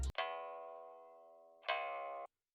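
Two sustained, filtered bass preset notes made in FL Studio, each a buzzy harmonic tone that slowly fades, the second starting after a brief gap and ending abruptly in silence.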